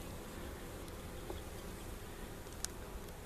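Honey bees at a swarmed hive hum in a soft, continuous buzz close around the listener during an inspection, with a faint click or two but no talking.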